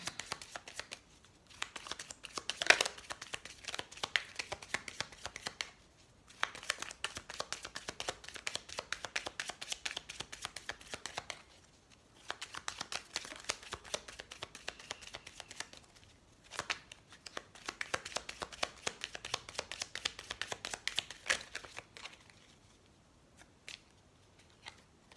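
Tarot cards being shuffled by hand in repeated bursts of riffling and sliding, close and fairly quiet, with short pauses between rounds and no talking.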